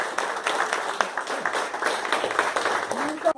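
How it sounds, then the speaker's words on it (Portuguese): An audience at an education forum in Osasco, Brazil, applauds: dense, continuous clapping, fairly close and loud, with voices mixed in throughout. "uma salva de palmas."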